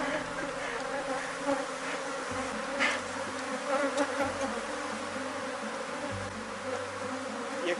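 Honeybees hum around an opened hive frame in a small apiary, a dense continuous drone that stays steady and close, with a few brief louder passes over it and no speech.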